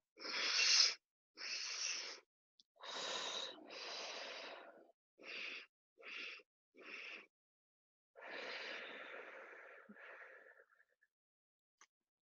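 Breathing exercise in a Pilates mat class, a close series of sharp nasal breaths: a quick double inhale, a longer exhale, then more short bursts, clear against silence with no talk.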